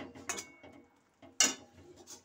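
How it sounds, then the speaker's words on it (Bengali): A metal lid clanks onto a cooking pot of papad and potato curry: a few short, close metallic clatters and taps in quick succession, with quiet gaps between them. "আবারও ঢাকনা দিয়ে দিলাম।"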